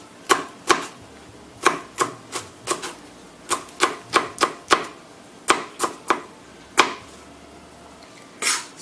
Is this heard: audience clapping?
no